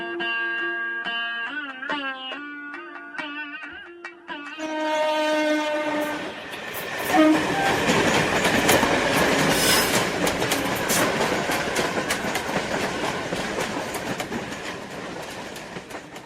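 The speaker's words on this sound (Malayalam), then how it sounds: "particularly അവിടുത്തെ റെയിൽവേ സ്റ്റേഷൻ." A train at a railway station: sustained horn-like tones come first, then a loud, close, steady rumble and rush of the train that lasts to the end.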